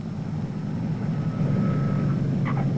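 World War II-era training airplane touching down and rolling along the runway, a steady low engine rumble holding throughout with a faint whine, no voices.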